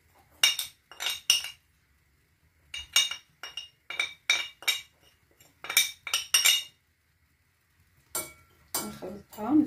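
A utensil clinks rhythmically against a bowl while chicken spices and harissa are mixed, giving crisp repeated taps in quick groups with short pauses, close and clear, and a few faint words near the end.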